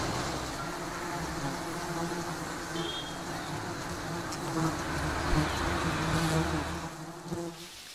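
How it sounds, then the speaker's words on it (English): Giant honeybees in rural Sri Lanka buzzing in a dense, continuous swarm drone, loud and close with no talking. "These giant honeybees are found all over South Asia."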